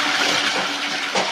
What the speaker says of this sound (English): Here's another toilet flush.